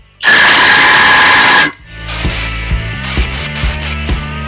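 Ratchet on a 17mm socket turning a clutch bolt on a 1979 Honda Odyssey, close and loud: a burst of harsh broadband noise, then a quick series of ratcheting clicks.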